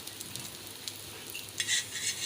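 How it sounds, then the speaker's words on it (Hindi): Shami kababs fry in oil over a medium flame, a close, steady sizzle with light crackles that swells louder toward the end, no speech. "अब मैं इनको मीडियम फ्लेम पे इस साइड से भी सिकने दूँगी।"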